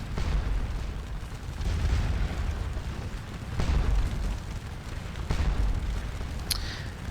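Musket and artillery fire from troops on a Napoleonic battlefield at Waterloo in Scourge of War, volleys aimed at a chateau: a continuous low rumble of distant booming shots with scattered sharper reports, steady and fairly loud throughout.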